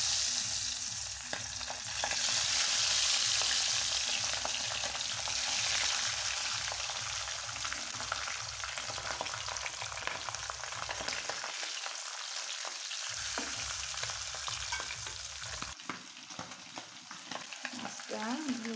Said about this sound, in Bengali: তেলটা গরম হয়ে গেছে, আমি এখন এক এক করে মাছ দিয়ে দিচ্ছি।